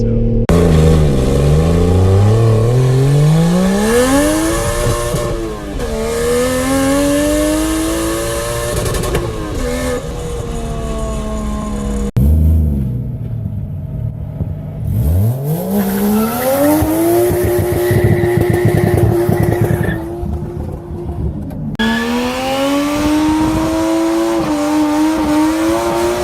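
A Nissan 240SX S13 with a swapped 1JZ VVTi engine does donuts and burnouts, its loud engine revving and rising in pitch while the tires squeal and skid continuously, with no talking.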